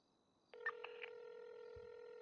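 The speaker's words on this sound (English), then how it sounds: "I hear the phone ringing." A steady electronic telephone tone from GTA 5 roleplay starts abruptly after half a second and holds, with a few brief beeping blips at its onset and a soft low thump near the end.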